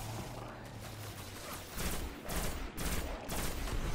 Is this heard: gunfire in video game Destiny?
yes